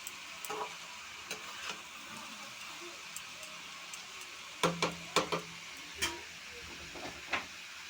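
Pieces of bottle gourd are stirred gently in a pan after a spice paste has been fried. Faint sizzling runs under scattered soft scrapes and taps of a spatula, several of them clustered near the end.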